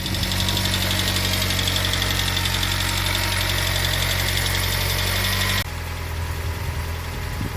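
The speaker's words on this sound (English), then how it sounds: "And that is a cold start." A car engine cold-starting on the choke runs steadily at a fast, rough idle, loud and close with a constant throbbing hum, then drops abruptly to a lower, quieter idle.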